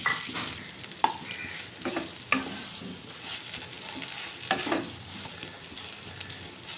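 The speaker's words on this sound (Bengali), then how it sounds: "তেলটা আমার গরম হয়ে গেছে। এবার এর মধ্যে গ্রেট করে রাখা আলু দিয়ে দিব।" Grated potato frying in hot oil, a loud close sizzle with bursts of spattering and a few sharp spoon clinks against the pan, no one speaking.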